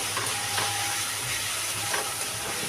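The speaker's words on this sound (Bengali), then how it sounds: "মশলাটা ভালো করে কষে নেব।" Spices and tomatoes frying in a pan while being stirred, a steady close sizzle and hiss with a few soft scraping stirs, no voices.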